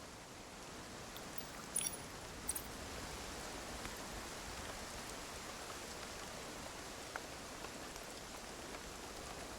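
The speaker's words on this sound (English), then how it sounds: "I love how refreshing the cool raindrops feel." Steady, even rainfall in the video game Infinity Nikki, a dense wash of drops on surfaces that runs unbroken throughout, with a couple of faint brief clicks near the start and no talking.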